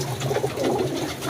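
Pigeons kept for sale at a market coo softly in a steady, murmuring low chorus, close by and fairly quiet, with no talking.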